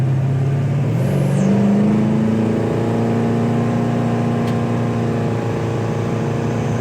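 A 1967 Pontiac GTO tribute's engine drones at speed, cruising around 75 mph at roughly 2,800 rpm. A loud, steady, even hum with a slight rise in pitch early on continues throughout, with no talk.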